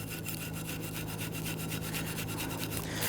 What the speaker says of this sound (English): I'm going to use a bristle brush, and where you just remove those sliders, you want to go ahead and clean.